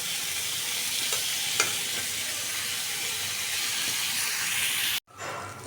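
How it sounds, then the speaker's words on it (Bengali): Pointed gourd and potato pieces frying in oil, a loud, continuous close hiss with faint stirring ticks, cut off abruptly near the end. "আমার পটল আর আলু তো ভেজে নিতেছি"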